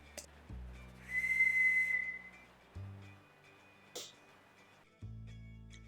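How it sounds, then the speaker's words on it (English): A homemade whistle cut from elder wood gives one sustained, shrill blown note, followed by a couple of short breathy toots and some faint handling noise in a quiet outdoor setting. "So there you go, one working elder whistle."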